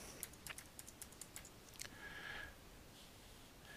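A web address is typed on a computer keyboard as a quick, faint run of separate key clicks, followed by a soft breathy noise and a short pause, with no talking.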